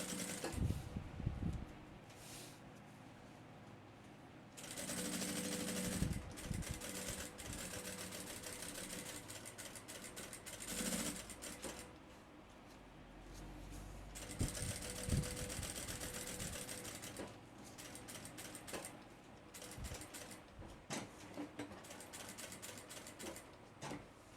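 A sewing machine runs in bursts of rapid stitching along the tip of a backpack front pocket as a reinforcing seam, with short pauses and handling clicks between runs, fairly close and without talk.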